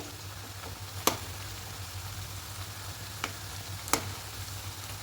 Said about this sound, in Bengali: এটাও লাল লাল করে ভেজে নেব